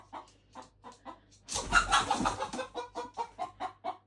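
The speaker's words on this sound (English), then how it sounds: "Hello, chicken. I'm afraid you've wandered into the wrong place." A chicken that has wandered inside a tiny house cabin in Sweden clucks in a string of short, evenly spaced notes, close by, breaking into a louder, agitated squawk partway through before the steady clucking returns.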